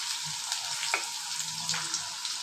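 Garlic frying in hot oil for a dry fish curry with taro, a steady dense sizzle close by throughout, broken by a few soft clicks of a spoon in the pan.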